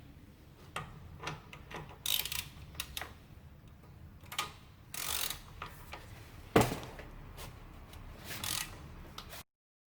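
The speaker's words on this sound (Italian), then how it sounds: "Utilizziamo una chiave da 12." A 12 mm wrench works the rear brake bolts on a scooter, giving scattered close metallic clicks and ratcheting ticks in short bursts, with one sharper clank partway through and quiet gaps between.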